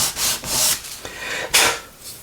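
Sandpaper rubs back and forth over the plastic of a Tamiya F-35B scale model kit in a few close, raspy strokes with short pauses between them.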